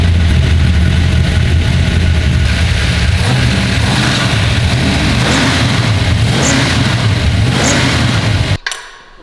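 Dodge Dart engine running loud and close after carburetor tuning, a steady throaty roar with a few revs that cuts off abruptly near the end.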